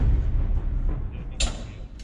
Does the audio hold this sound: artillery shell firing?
yes